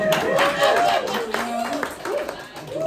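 Comedy club audience clapping in a short burst of scattered applause after a stand-up joke, mixed with a speaking voice and some crowd noise, fairly close and moderately loud.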